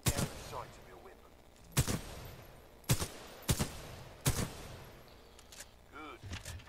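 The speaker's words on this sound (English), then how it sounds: "Yeah, sure, whatever, I'll shoot some shit." Weapon fire from target practice in the Titanfall 2 video game: five or six crisp, fairly quiet shots spaced irregularly, with a voice speaking between them and small mechanical clicks near the end.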